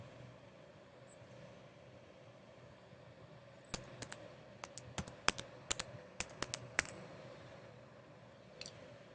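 Login details typed on a computer keyboard: after a few quiet seconds, a short burst of crisp, close key clicks, uneven in rhythm, followed by one last faint tap.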